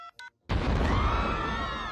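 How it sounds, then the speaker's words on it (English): A cell phone being dialed in the Family Guy cartoon, two short keypad tones followed by a sudden loud burst of noise that holds and slowly fades. "I'm gonna call Mahmoud right now on this cell phone he gave me"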